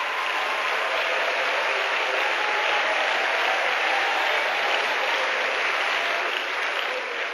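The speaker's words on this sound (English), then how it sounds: "I need the mamas and the daddies to clap" A church congregation claps steadily during a sermon, a dense, even wall of applause that holds at a constant level from start to finish with no voices over it.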